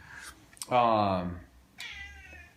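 A house cat meows loudly up close, two drawn-out meows with a short chirp between, heard alone.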